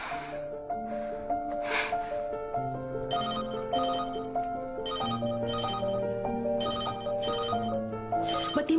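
A phone ringtone plays a repeating electronic melody with chiming tones, ringing on without being answered, loud and close with no talk.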